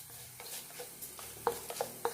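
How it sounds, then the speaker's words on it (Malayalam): Chili powder and turmeric powder fry in hot oil for a pumpkin curry, a faint low sizzle broken by a few sharp spoon clinks and stirring scrapes against the pan. "അത് ഈ ചൂട് എണ്ണയിൽ കിടന്നൊന്ന് മൂത്ത് വന്നാൽ മതി."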